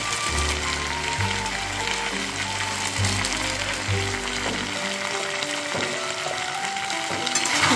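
Tomato masala with Kashmiri chili powder sautéing in a pan, a steady close sizzle with stirring and faint scraping, while a low musical hum runs beneath most of it.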